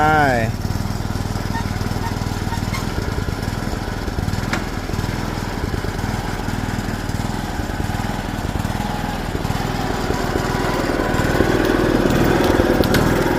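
A small remote-control miniature excavator's engine buzzes steadily at close range, a thin high-revving drone that swells louder near the end as it is throttled up, with people talking over it.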